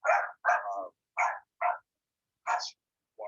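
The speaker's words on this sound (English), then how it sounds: "Sorry about my dogs." Dogs bark indoors in a series of sharp close barks, about six in quick uneven bursts with gaps between, a brief voice also heard.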